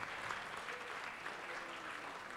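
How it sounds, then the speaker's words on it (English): A ceremony audience applauds honorees at a distinguished graduate event, a steady, distant and faint wash of clapping with no breaks. "Say one more big round of applause for Dr. Albert, Mr. Brenner, congratulations."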